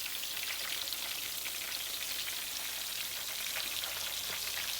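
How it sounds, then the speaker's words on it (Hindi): Potato pakoras in hot oil give off a steady, dense sizzle and crackle of bubbling frying, moderately quiet and uninterrupted, with no voices. "और मैं अभी इसको फ्राई करूंगी जब तक कि इनका कलर गोल्डन नहीं हो जाता।"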